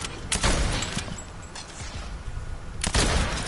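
Sniper fire in a shooting video game: two sharp, loud shots, one near the start and one near the end, with a grainy ambient wash between them.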